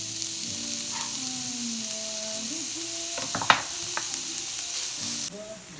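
Onions and garlic sautéing in a pan, a quiet steady sizzle with a cluster of clinks and scrapes from stirring midway, then it drops off abruptly near the end.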